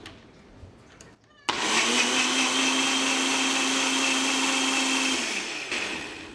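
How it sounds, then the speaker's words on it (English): A countertop blender whirs up a keto pumpkin spice latte, starting abruptly with a loud, steady high-pitched motor roar that holds for several seconds before winding down near the end, with no speech. "Then you're just going to top it with your lid and blend it right up."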